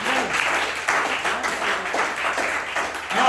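A congregation at a Thursday church service claps and applauds in a burst of irregular hand claps. The clapping is fairly close and continues steadily throughout, with faint voices mixed in.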